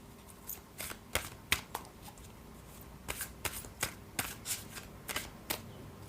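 Tarot cards being handled and drawn from a deck: a string of soft, crisp card flicks and slides, close and fairly quiet, arriving in irregular bursts with no voices.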